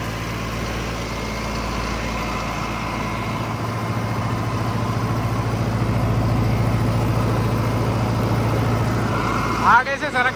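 A Mahindra Arjun NOVO tractor engine runs at steady throttle with a loud, continuous low diesel drone during a vibration test, heard up close under talking, with a short rattling burst near the end.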